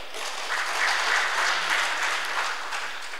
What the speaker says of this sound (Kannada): ಒಬ್ಬ ಭಾಷಣಕಾರ ತಮ್ಮ ಭಾಷಣವನ್ನು ಮುಗಿಸುವಂಥ ಸಂದರ್ಭದಲ್ಲಿ ಎದ್ದು ನಿಂತು ಚಪ್ಪಾಳೆ ತಟ್ಟಿದ್ರು